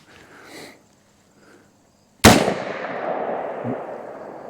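A single sharp rifle shot from a 16-inch barrel firing 62-grain rounds cracks loudly at close range and rings out into a long decaying echo, with quiet low rustling before it.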